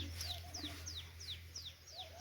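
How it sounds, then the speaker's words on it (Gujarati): A sparrow chirps on a rural organic farm: a series of quick, evenly spaced high tweets, fairly faint, over a low steady hum of background noise. "જો ચકલી"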